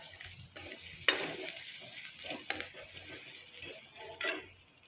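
Green chili thecha hitting hot oil in a frying pan for a bottle gourd sabzi, giving a steady close sizzle with a few sharp spatula scrapes and clinks, no voices.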